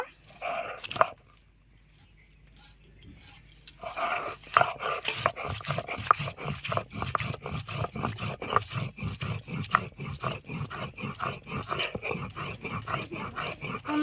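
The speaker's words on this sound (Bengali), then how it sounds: "শুকনো লঙ্কাটা বেটে নেব।" Dried red chilies ground by hand on a flat grinding stone, a steady rhythmic scraping and crunching that starts after a quiet pause and continues close and fairly loud.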